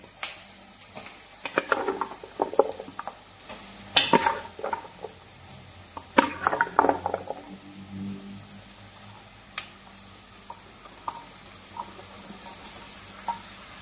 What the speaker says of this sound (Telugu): బీరకాయ ముక్కలు వేసేసి ఒకసారి మొత్తం కలిపేసుకొని ఈ విధంగా మొత్తం కలిసేటట్టు ఒక్కసారి తిప్పేసుకొని